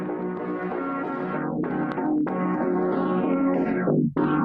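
A phonk beat run through an FL Studio low-pass filter preset plays as a dense, loud, continuous mix with heavy low end and muffled tops, broken by sharp sweeping filter dips near the end. No talking.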